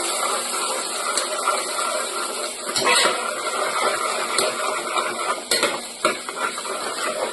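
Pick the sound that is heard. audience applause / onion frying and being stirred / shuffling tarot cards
onion frying and being stirred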